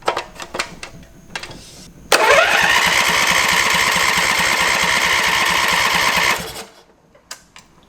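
A zero turn mower's engine cranks over with a loud, pulsing starter whir for about four seconds after a few clicks and knocks, then cuts off abruptly, leaving quiet handling noises close by.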